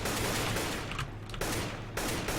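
Rapid gunfire spraying in a Counter-Strike: Global Offensive pro match at Copenhagen Games 2013, dense continuous bursts filling the whole moment with brief dips, loud and close with no voices.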